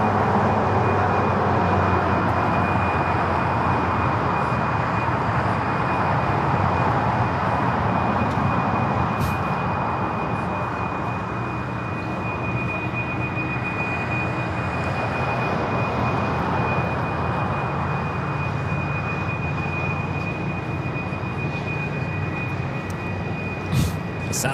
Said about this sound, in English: Sound of those GE90s there on taxiway Kilo.